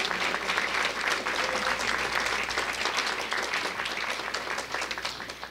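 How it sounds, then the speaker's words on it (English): An audience at an aviation institute family night gives a round of applause, a steady, full patter of many hands clapping throughout that fades slightly toward the end. "please give her a round of applause"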